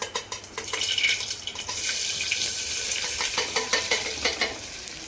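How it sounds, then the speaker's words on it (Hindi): Onion and garlic fry in hot oil with cumin seeds in a home kitchen, giving a close, continuous sizzle broken by repeated stirring scrapes of a utensil against the pan. No one speaks. "प्याज और लहसुन दोनों चीज़ डाल दी। अब ये फ्राई कर लूँगी ना।"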